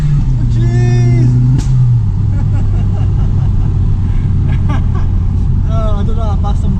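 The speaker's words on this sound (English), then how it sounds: "in third gear, it boosts even more, just like the Skyline" Audi S3 with a 1.8T turbo engine pulling hard in third gear, a loud steady engine drone with rising boost tone filling the cabin, with occasional excited speech over it.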